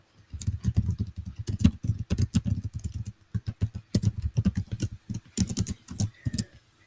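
Keys clatter on a computer keyboard in quick, uneven bursts of close taps separated by brief pauses, with no voices.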